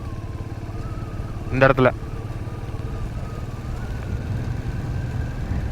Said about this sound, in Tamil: 2வது கீர் போட்டாலே வண்டி ஏற மாட்டேங்குது மேலே